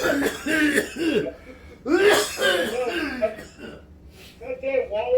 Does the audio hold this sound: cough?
yes